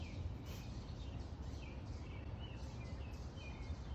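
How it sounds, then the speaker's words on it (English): Faint birdsong chirps high above a steady low outdoor rumble like distant traffic, scattered calls spread across the background. "the sound of the birds in the background is so pretty"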